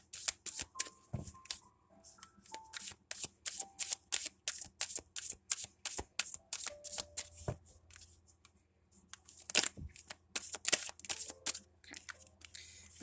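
Tarot cards being shuffled and drawn, with a rapid series of crisp riffling flicks and snaps, close and fairly quiet, with a brief pause before a final flurry.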